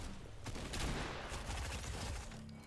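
Sustained automatic gunfire from Fortnite spraying down an enemy, a dense continuous burst of rapid shots running the whole stretch at steady loudness.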